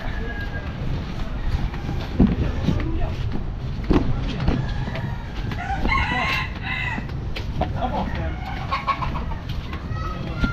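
A rooster crows at a distance amid a busy, noisy outdoor background with people talking nearby.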